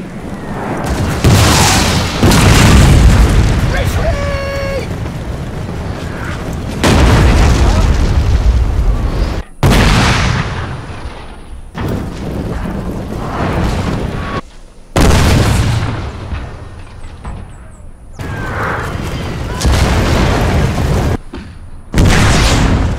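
Artillery fire in a Total War historical battle recreating the Napoleonic-era Battle of Talavera, with Britain and Spain against France: loud, heavy cannon booms roll out one after another, each ending abruptly, over a constant rumbling battlefield din.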